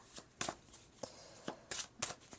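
Tarot cards being shuffled by hand: several crisp riffling bursts and soft slaps at irregular intervals, close up and moderately loud, with nobody talking.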